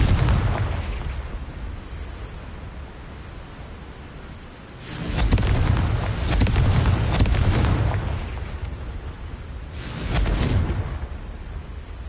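A Confringo blasting spell in Hogwarts Legacy on PS5, a loud roaring explosion with rumbling debris after a quieter stretch, followed by a second shorter blast.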